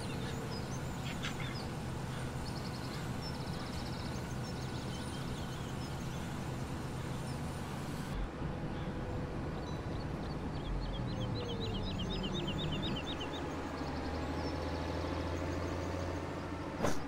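Faint repeated bird calls and quacking chatter from a Farming Simulator 17 farm scene, steady over a constant low engine-like drone, with no voices.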